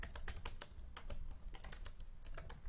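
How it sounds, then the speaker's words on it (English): Rapid typing on a computer keyboard while entering a slide title in Google Slides, a steady run of close, crisp key clicks with no talking. "So I'm just going to type a title."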